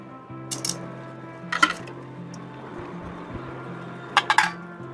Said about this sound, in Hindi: तो सबसे पहले ये बर्तन ही उठा लेती हूँ।